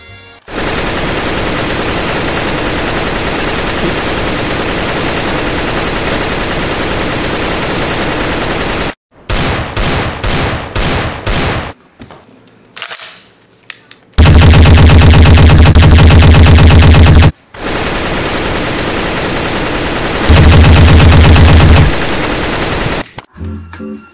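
Loud, sustained machine gun fire roars for long stretches, broken by a few short gaps of separate cracking shots and one brief pause before heavier bursts resume.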